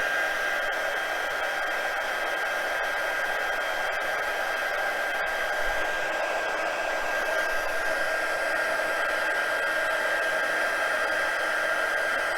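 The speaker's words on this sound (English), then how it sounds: "this is one of the dangers and drawbacks of using a heat gun on camera" A heat gun drying a craft project at a worktable gives a loud, steady, unbroken blowing roar of hot air, close by and constant throughout with no speech over it.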